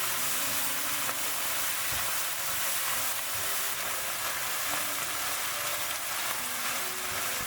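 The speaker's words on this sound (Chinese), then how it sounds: "然后开大火翻炒均匀，使所有的食材都充分吸收调料的味道" Garlic scapes and shredded pork are stir-fried over high heat with sugar and light soy sauce, giving a steady, close, dense sizzle that hisses without a break and with no talking.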